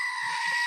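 A short, loud goat-like bleat sustains evenly for under a second, with faint low rumbles beneath and no speech.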